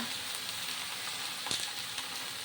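Ridge gourd frying in a pan gives a quiet, steady sizzle, with a faint scrape or two as it is stirred.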